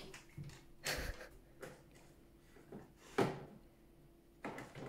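A dog opens a wooden drawer at home, giving a few soft sliding bumps and knocks with a sharper clunk partway through, along with faint snuffling breaths in a quiet room.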